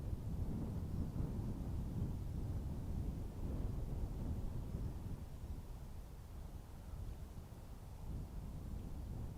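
Wind buffets a microphone at Dublin Airport in a steady, low, rumbling roar that swells and eases slightly. No voices are heard over it.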